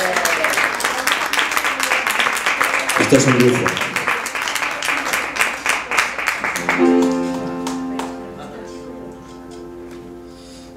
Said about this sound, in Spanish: Quiero pedir un aplauso para estos grandes pianistas que tenemos aquí, por favor.